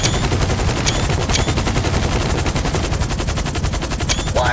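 Rapid automatic turret fire from a turreted limousine in GTA 5 Online, a loud, dense, evenly spaced stream of shots that runs unbroken, with a few sharper ricochet-like snaps over it.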